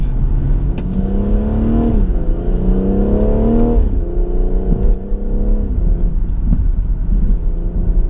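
A BMW M140i accelerates hard, its engine note rising in pitch, dropping at each gear change, then climbing again, loud and continuous from inside the car, with no talking.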